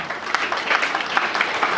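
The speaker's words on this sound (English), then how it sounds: "Let's give him a wonderful clap." A crowd at a community campaign event against cultism and drug abuse claps steadily in a brief, continuous round of applause, moderately loud and evenly spread.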